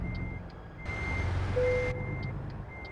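A truck in American Truck Simulator backs up while its reversing alarm beeps at an even, steady rhythm over a low engine hum. No one speaks.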